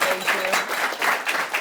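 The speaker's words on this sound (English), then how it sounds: "Let's give her a round of applause." An audience at a book talk on economics and austerity applauds, a brief burst of dense clapping from a room full of people that continues while a speaker talks over it.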